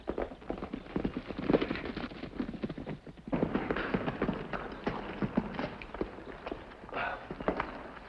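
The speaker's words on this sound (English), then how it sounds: "Kemo Sabe, me hear another horse." A horse approaches with hooves clip-clopping in quick irregular beats, fairly close and moderately loud, over an outdoor background.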